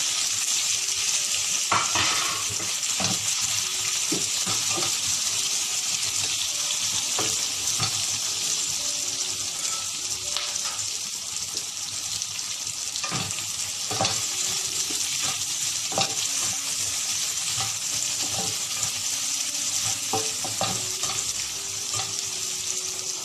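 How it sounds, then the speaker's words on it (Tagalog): Garlic and onion fry in a pan for a pork chop and black pepper sauce, giving a steady close sizzle broken by scattered clicks and scrapes of stirring, with no talking. "lagay na natin yung bawang. na yung sibuyas."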